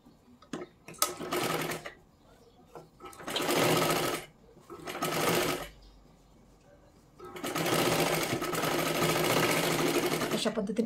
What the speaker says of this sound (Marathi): आता इथे काय करायचं आहे आपल्याला अजून एक आपल्याला त्याच्यावरती डबल शिलाई मारून घ्यायची आहे बघा